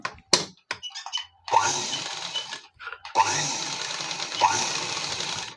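A sewing machine stitches a garment design in two steady whirring runs, the second longer, with a few mechanical clicks and taps between them.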